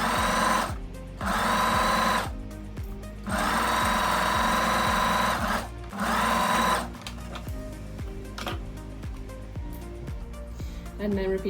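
A sewing machine stitches a summer dress side seam down to the hem in bursts of rapid mechanical whirring, pausing briefly between runs, close and loud.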